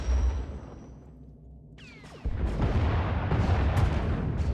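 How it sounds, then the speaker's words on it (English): Starship turbolasers and missiles firing at a Thranta-class warship in The Old Republic space combat: a low hum, a sweeping zap near the middle, then a sudden loud, sustained barrage of booming blasts and crackling fire. "Enemy is firing. Turbo lasers, missiles, and what looks like transport pods."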